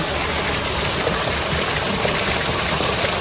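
Cool, chlorinated water flows steadily into a bathing spot, making a continuous close rushing wash with no voices.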